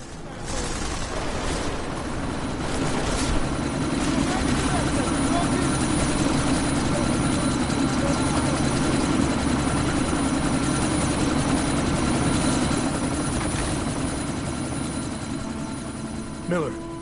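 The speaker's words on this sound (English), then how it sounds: "That chopper's about to take off!" A helicopter readying for takeoff in the video game Deus Ex: Mankind Divided, its rotor and engine drone roaring loud and continuous throughout, with faint game effects layered over it.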